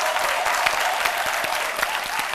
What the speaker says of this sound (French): Je les prends comme des honneurs, ces applaudissements.